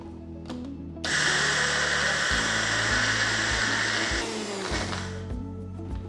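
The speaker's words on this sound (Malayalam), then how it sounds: "ഇതൊന്ന് ലൈറ്റായിട്ട് ആദ്യം അരയ്ക്കാം" A mixer grinder grinds raw rice for vellayappam batter. The motor whirs loud and steady for about three seconds, then winds down, with clicks and faint rattles before and after, and no voices.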